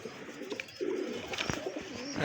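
Imamdin running pigeons coo softly up close, a low throaty purring call that swells midway, with faint rustling around them.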